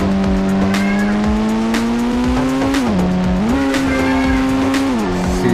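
Engine of a supercar in a racing video game, a loud steady high whine that holds pitch, dips briefly and climbs again as the car shifts and accelerates, with no talk.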